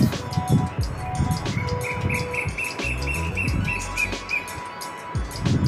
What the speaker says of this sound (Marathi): किती सुंदर आवाज आहे पक्ष्यांचा